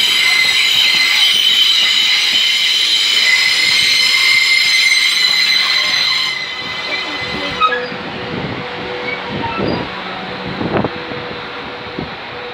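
South Western Railway Class 444 electric train arriving at Poole station, loud high wheel squeal over rumbling carriages, then the squeal stops and clunks and rattles follow as the train slows, with wind buffeting the microphone throughout.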